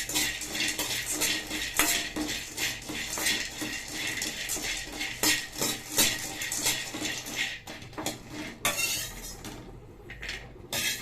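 Cashews being dry-roasted in a kadai for cashew laddu, heard as repeated clinking and scraping of a metal spoon against the pan, close and fairly brisk, with no talk.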